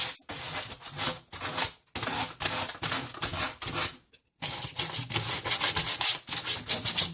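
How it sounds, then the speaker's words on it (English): Hand sanding of a wooden mirror sconce, a steady dry rasping scrape in repeated strokes, close and fairly loud, with two brief pauses between bursts. "Just sand just for a couple of minutes."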